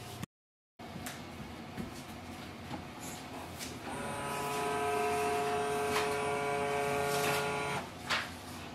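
Canon Pixma G620 inkjet printer scanning, a mechanical whir with clicks that builds into a steady motorized hum with tonal whine as the scan head travels, then winds down with a final clunk.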